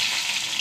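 Mustard seeds, urad dal and dried red chillies crackle and sizzle in hot coconut oil, a steady bright hiss throughout with no talking.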